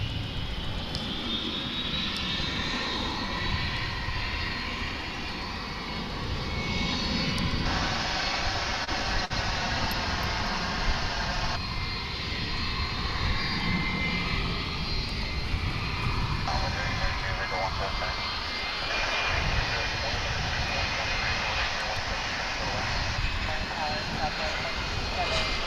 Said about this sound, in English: We get to hear a lot of engines from this position.